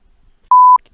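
A single loud, pure electronic censor beep lasting about a quarter second, with near silence before and after.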